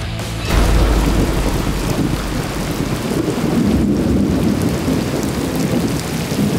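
Heavy torrential rain pours down steadily during a thunderstorm, with a loud rumble of thunder near the start and a dense, constant roar of rain throughout.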